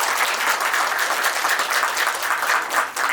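An assembled audience at an astrology and occult science gathering applauds, a thick, continuous roar of many clapping hands that holds steady and loud, then stops abruptly at the end.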